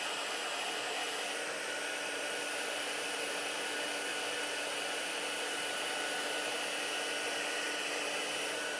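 Heat tool blowing steadily to melt embossing powder during a craft project, a continuous loud whooshing roar with no pauses, close to the listener and with no talk.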